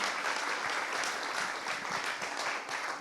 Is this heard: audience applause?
yes